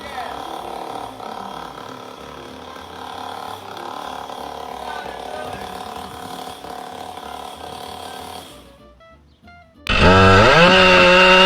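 Chainsaws cutting trees: a steady, buzzing engine whine that drops away near the end, then a sudden loud, close revving burst.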